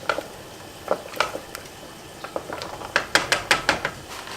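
A seasoning packet is dumped into a pot and stirred, a spoon knocking and scraping against the pot in a string of sharp clinks that grow quicker and louder toward the end.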